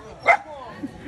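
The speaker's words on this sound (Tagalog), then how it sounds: "Ayan yung mga dogs niya." Small pet dogs give a single sharp yip near the start, then a couple of softer whimpering sounds, all close by and fairly loud against a quiet room.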